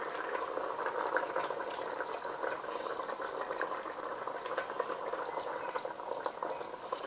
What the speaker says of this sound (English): we're going to add the fish just straight in to the liquid